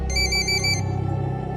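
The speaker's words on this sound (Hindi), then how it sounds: "10 से 15 सेकंड के बाद पुष्कर का फोन बजा।" A phone ringtone plays a short bright electronic melody, loud and close, then a lower buzzing tone carries on briefly after it stops.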